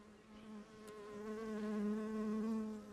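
Honeybees buzzing around an open hive as they try to rob it, a steady close drone with a layered hum that swells slightly louder toward the middle and end.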